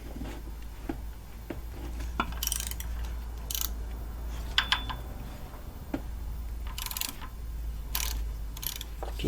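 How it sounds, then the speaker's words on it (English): Ratchet clicking while loosening the camshaft sprockets on a BMW 323i engine, with short bursts of rapid clicks and metallic ticks spread across a steady low hum, fairly close, no talking. "I need to actually loosen the camshaft sprockets again"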